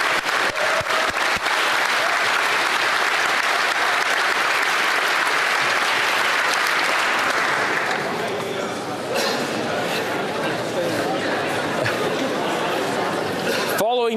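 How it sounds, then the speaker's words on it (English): Members of the Canadian House of Commons clap loudly and continuously during Question Period, the dense applause tapering off after several seconds into a murmur of chatter across the chamber. "Oh, we're supposed to be clapping."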